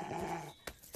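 A cartoon dog growls, a low sustained rumble up close that fades into a few short yips and whimpers, with no talking.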